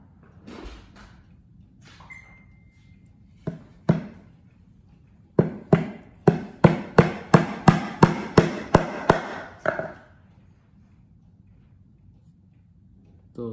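A hammer taps a steel center punch to mark a spot for drilling, two isolated strikes followed by a quick run of about ten sharp, close metallic taps in steady rhythm, then quiet.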